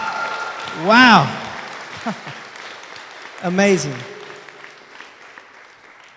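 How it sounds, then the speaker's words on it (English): A graduation commencement audience applauds the graduates, a steady round of clapping heard under a person's brief exclamations of admiration. "Give them one more round of applause, please."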